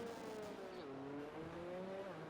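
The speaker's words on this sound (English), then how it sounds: "I can hear some engines starting up." Race car engines hum in a Brazil round of an RSF1 league racing game, a faint, steady droning whine whose pitch steps down and holds, distant and continuous for a couple of seconds.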